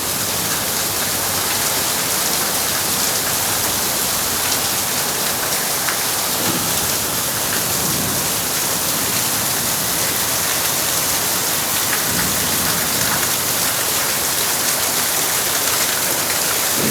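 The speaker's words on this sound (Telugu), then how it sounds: "చాలా పెద్దగా వర్షం పడుతుంది వర్షం" Heavy rain pours down in a dense, unbroken hiss that stays loud and steady throughout, with no voices.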